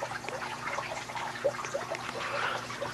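Soft fizzing of electrolysis bubbles in a prototype hydrogen generator, a faint steady hiss dotted with tiny pops and trickling liquid, heard close with no talking.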